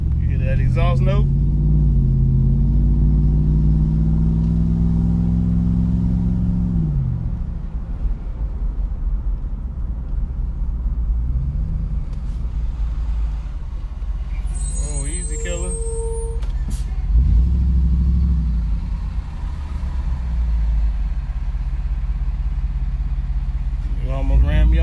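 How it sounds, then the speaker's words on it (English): A 2005 Jeep Grand Cherokee 4x4 with a 4.7L V8 drives along, its engine and exhaust droning low and rising as it accelerates, then settling into a rumbling cruise with passing road noise and occasional talk. "You hear that exhaust note?"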